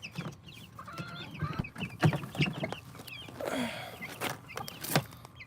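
Backyard homestead chickens clucking and cooing close by in short, irregular bursts, several birds overlapping with scattered sharper calls and soft rustling.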